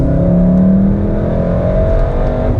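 A 2017 VW Golf R with all-wheel drive accelerates, its engine droning loudly and steadily inside the cabin as the tone climbs slightly under the road rumble.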